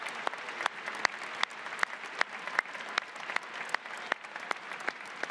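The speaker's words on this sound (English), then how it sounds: "let's give them a round of applause" Sustained applause from a university commencement crowd, steady clapping with a few louder sharp claps standing out, no voices over it.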